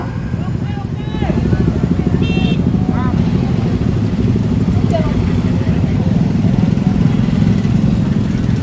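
Motorcycle engine running at a street protest as the bike is moved backward, a steady low rumble throughout with crowd voices and speech over it.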